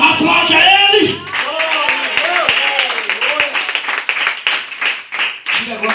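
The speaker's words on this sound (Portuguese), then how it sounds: "Aplaude a Ele." A church congregation at a Wednesday evening service claps together, a dense burst at first thinning into scattered, uneven claps, with voices of the crowd mixed in.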